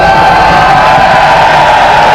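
A school crowd at an under-18 schools rugby final, Millfield School versus The Grammar School, makes a loud, steady roar of cheering and shouting that fills the whole stretch.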